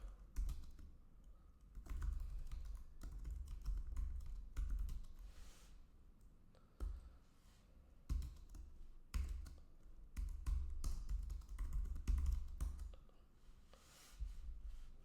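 Someone types steadily on a computer keyboard, with quiet, close key clicks coming in bursts and short pauses for about fifteen seconds and nobody talking.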